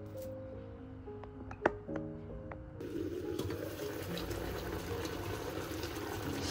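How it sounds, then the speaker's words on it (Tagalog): Liquid boils in a pan with a little olive oil, a steady close bubbling and hissing that thickens after a few seconds, with a couple of clinks early on and no voices. "Pakukuluin lang yan."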